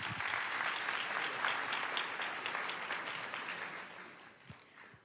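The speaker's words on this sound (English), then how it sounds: "Can we also do a round of applause for the folks who are staying at home, the family members?" Audience applause at a police community relations awards ceremony, a dense steady clapping from a crowd that holds strong for several seconds and then thins and fades toward the end.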